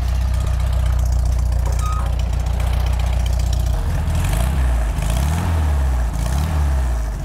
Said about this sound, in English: Let me give it a little bit of gas for you.